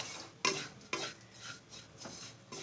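Roasted grated coconut being scooped out of a kadai, faint scraping with a few soft metallic taps of a spoon against the pan, close and quiet, no talking.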